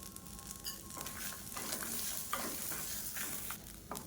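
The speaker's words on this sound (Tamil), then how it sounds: "இப்போ தேங்காய் எல்லாமே நல்லா வறுபட்டுருச்சு." Grated coconut and curry leaves roasting in a hot pan for coconut thuvayal, with a close, steady sizzle broken by repeated scraping spatula strokes and no voices.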